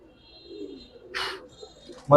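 A khaki silver Giribaz pigeon gives a soft, brief coo close by, with quiet bird sounds around it.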